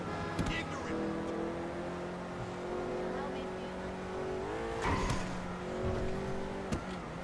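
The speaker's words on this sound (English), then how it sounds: "This Testarossa's gonna get me in trouble. But it is fun to drive." A Ferrari Testarossa in a driving video game runs with a steady engine drone that rises as it revs around the middle and again near the end, under light background noise and sharp clicks.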